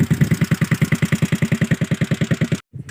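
Motorcycle engine running in a village, a steady, chugging rapid thump at idle-like pace, close and loud, cutting out abruptly near the end before a brief faint rustle; no talking.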